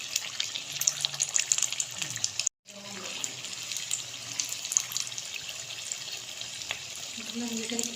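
Potato and chickpea samosas deep fry in hot oil with a dense, steady bubbling sizzle, close and continuous apart from a brief cut.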